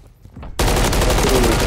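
Rapid automatic gunfire in a Call of Duty match bursts in abruptly after a quiet moment, a loud, dense stream of shots with no pauses.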